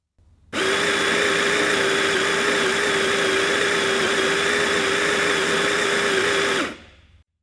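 Hands-free espresso grinder with a built-in scale running into a portafilter: a loud, steady motor whir that starts abruptly, holds for about six seconds and cuts off cleanly.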